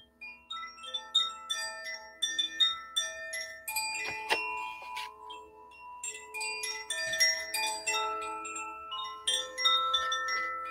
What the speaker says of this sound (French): Donc là, on termine ou on commence avec ce carillon qui est aérien.